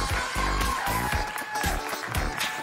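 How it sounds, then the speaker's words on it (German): A burst of studio audience applause on a German talk show, dense clapping from a crowd filling the whole short moment. "Applaus."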